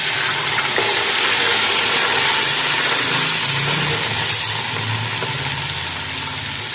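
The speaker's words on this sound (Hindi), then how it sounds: "पहले मैंने ऑयल डाला, इसको गरम किया। ये कोई 6 चम्मच जो है डोंगे के ऑयल है, और उसके साथ में अब अपना प्याज डाल रही हूँ।" Onions frying in about six ladles of hot oil for black chickpea pulao, a loud dense steady sizzle with faint stirring underneath, close and without speech.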